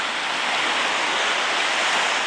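Surf on the Omura coast in Toyama, Japan, at high spring tide: a steady, loud wash of breaking waves fills the whole stretch without pause, with no voices.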